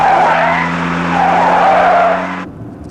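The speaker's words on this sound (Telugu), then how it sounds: "కారు ఇటు వెళ్తుందండి" A car skids with a loud, sustained tyre squeal over a steady engine drone for about two and a half seconds, then cuts off abruptly, with no voices.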